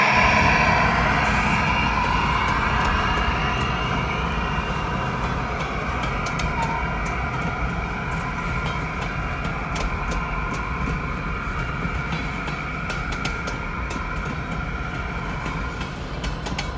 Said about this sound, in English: Here we see BNSF bringing a loaded grain train into Oakdale over